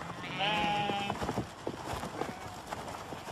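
Sheep of an ancient domestic breed in the Scottish mountains give a short, loud bleat near the start, followed by scattered clattering and rustling movement for the rest of the moment.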